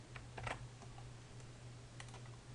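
Quiet computer keyboard typing, a short burst of a few clustered key presses followed by a couple more taps, close up over a steady low electrical hum.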